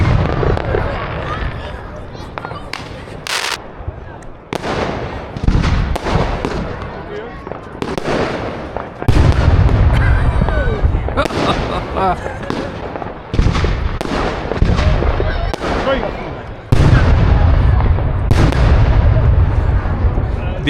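Extremely loud salute fireworks and aerial shells burst outdoors in a rapid series of sharp, booming explosions with crackling between blasts, and people shout and talk excitedly between the bangs.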